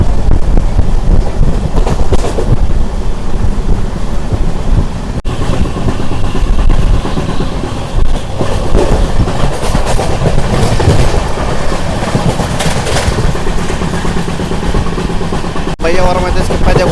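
A passenger train on a long-distance general-class journey runs steadily on rails with continuous clickety-clack and wind rushing past the open window, loud and close throughout.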